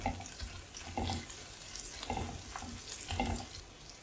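Crushed shallots, dried red chillies and curry leaves fry in hot oil, a soft, fairly quiet crackling sizzle broken by several stirring scrapes at a regular pace.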